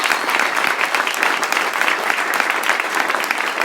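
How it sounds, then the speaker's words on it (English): A panel audience applauds after a debate on avalanche airbags, with loud, dense, sustained clapping from many hands that fills the whole stretch without a break. "let's get a big round of applause for all these guys"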